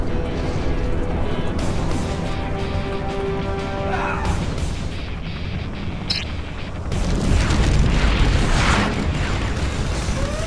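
A nuclear missile strikes in Command & Conquer Generals Zero Hour, a heavy, sustained roar and rumble that swells partway through, mixed with tonal game sounds and mechanical clatter.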